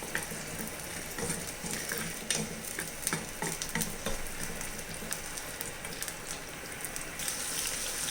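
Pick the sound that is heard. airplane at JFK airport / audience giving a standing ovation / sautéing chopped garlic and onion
sautéing chopped garlic and onion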